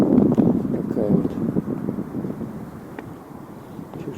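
Gusty wind buffets outdoors in Vladivostok, rumbling low and uneven against the microphone, strongest early and easing off over a few seconds.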